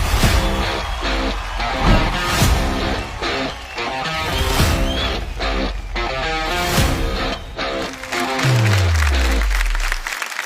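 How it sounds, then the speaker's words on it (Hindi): An audience at a grand finale stage show applauds to welcome an actor on stage, with clapping mixed under loud, pounding music with heavy drum hits and a falling bass sweep near the end. "जोरदार तालियों से स्वागत कीजिए लेडीज एंड जेंटलमैन"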